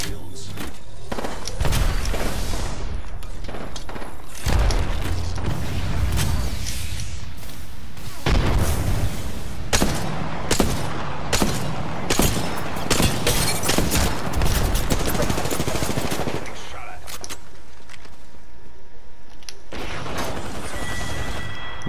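Apex Legends gunfire crackles in dense bursts and booms across a busy firefight, close and loud, with short gaps of quieter game ambience and faint voices talking underneath.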